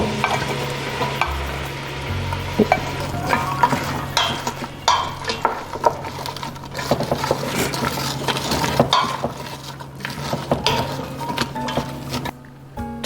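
Sliced onions sizzle and fry in a pot for French onion soup, with steady close stirring and spoon scrapes against the metal throughout.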